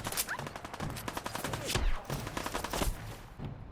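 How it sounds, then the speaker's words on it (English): Close, rapid gunfire from a Fallout 4 firefight in Concord rattles in a steady stream of sharp repeated shots with a few heavier blasts mixed in. "Oh my god, I missed so many shots right now."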